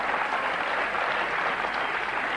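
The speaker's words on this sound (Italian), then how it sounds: "questo applauso non era previsto" Unplanned audience applause at a 1995 graduation event at Tor Vergata University in Rome, steady dense clapping from a crowd, fairly even throughout with no talk.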